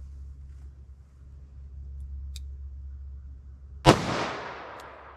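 A .357 Magnum revolver with a 4-inch barrel fires once: a single sharp, loud crack that rings off briefly. Before it, only a low, quiet hum is heard.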